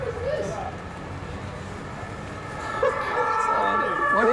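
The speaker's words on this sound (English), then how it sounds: "ambulance motorbike" An ambulance motorbike's wailing siren sweeps up and down, fading in and out then growing louder, heard through busy street noise with voices nearby.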